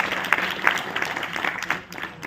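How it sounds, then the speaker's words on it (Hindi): A political gathering's audience claps in welcome for a member of parliament, a short, close burst of applause with a few louder individual claps standing out. "यहाँ पे हमारे सांसद जी मौजूद हैं, उनका भी तालियों से अभिनंदन करिए"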